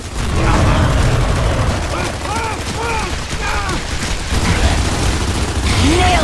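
Lancer assault rifle fire in Gears of War 3, loud rapid bursts of gunfire with mechanical clatter, mixed with chirping effects and voices talking over the action.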